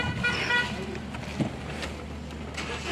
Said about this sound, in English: So now the vehicle is running